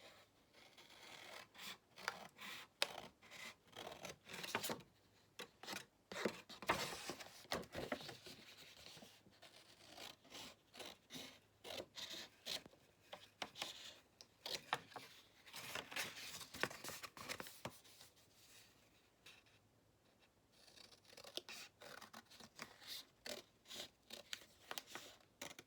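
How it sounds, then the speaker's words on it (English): Scissors snipping through paper strips along folded lines for a children's craft hat, a quick run of irregular crisp cuts and rustles, close and fairly quiet, with brief pauses between bursts. "So I'm just going to cut straight up the folded lines that I made on here."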